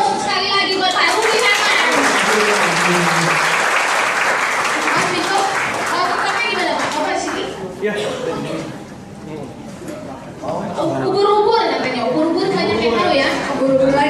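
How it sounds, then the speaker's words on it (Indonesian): A seated audience gives Pak Ruby Herman a round of applause, a dense wash of clapping that fades into crowd chatter and voices before picking up again near the end. "Aplaus sekali lagi buat Pak Ruby Herman."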